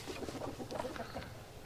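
Chickens clucking inside a farm chicken coop on a hot summer day, a steady run of short overlapping clucks and soft calls from several birds nearby, with no talking.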